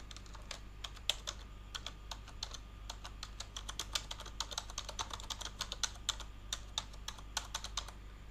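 Rapid, irregular key clicks on a computer keyboard while entering all-caps text in Photoshop, close and crisp, continuing steadily with no speech.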